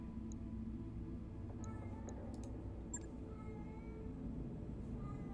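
A cat meows a few times, short and faint, over a low steady rumble indoors.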